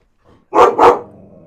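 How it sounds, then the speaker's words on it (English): A dog on a neighbour's balcony gives two loud, close barks in quick succession, followed by a fading echo, with no other sound around them. "the dog hangs out on the balcony all the time"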